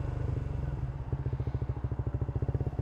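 Motorcycle engine pulling away as the throttle is rolled on, a steady rhythmic pulsing that quickens and grows louder over a few seconds, close to the microphone with no talk.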